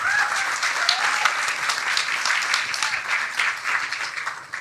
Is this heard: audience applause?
yes